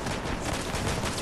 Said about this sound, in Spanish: Me están disparando, tío